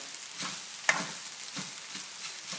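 Cooked rice from a rice cooker is broken up and stirred in a pan, giving a soft, steady sizzle with gentle scraping strokes and one sharper tap near the start, with no talking.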